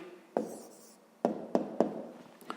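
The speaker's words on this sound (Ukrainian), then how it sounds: "записуємо тоді відповідь, пишемо відповідь" A math answer is written by hand in an exercise book, giving a few short scratchy pen strokes and taps, close and fairly quiet.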